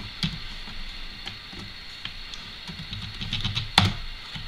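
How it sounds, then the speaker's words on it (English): Quick, irregular keystrokes on a computer keyboard as a command is typed into a command window, close and moderately loud with a short burst of clacks near the end. "you want to type in ADB devices"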